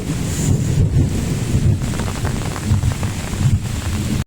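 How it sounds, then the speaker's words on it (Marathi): Loud rumbling thunder rolls through with wind buffeting the microphone and rain in the background, no voices. "गडगडत आहे पण जोरातच गडगडत आहे"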